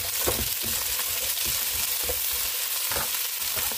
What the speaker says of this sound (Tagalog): Then ngayon, igigisa ko din itong gulay.